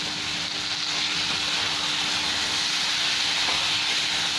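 Chopped tomato, cumin powder, green chilies and potato paste fry in a hot pan for Bengali chholar dal, making a constant, close hiss and sizzle with no break.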